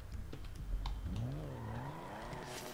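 A classic car's engine in GTA 5 Online revving and rising in pitch as it accelerates, with tonal whine sweeping upward over a low rumble, moderately loud and steady, with a few faint clicks at the start.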